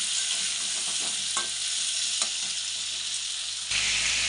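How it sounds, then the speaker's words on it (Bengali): Potatoes, papaya, onion and green chilli stir-fried in a pan while cooking a rohu fish curry, a steady bright sizzle with a few soft scraping strokes and a slight jump in level near the end, no talking. "দিয়ে যে আলু আর পেঁপেটা দিয়ে দিলাম, দিয়ে এখন ভালোভাবে কষিয়ে নেব।"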